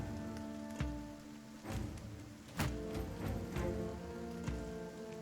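Steady rain in the tactical video game Battle Brothers, a continuous hiss with a few dull thumps breaking through it.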